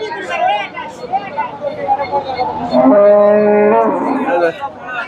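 A large Friesian dairy cow at a busy cattle market gives one long, deep, drawn-out moo in the middle, with people talking and a crowd murmuring around it.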